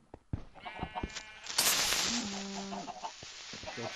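Chickens clucking and sheep bleating inside an animal coop in the Minecraft video game, several short calls scattered among other game noises at moderate loudness.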